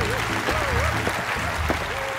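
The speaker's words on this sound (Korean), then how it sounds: "자, 박수로 환영해주세요." A hall audience claps steadily to welcome a guest speaker at a church children's program, a dense, even wash of applause with a voice or melodic tone faintly running underneath.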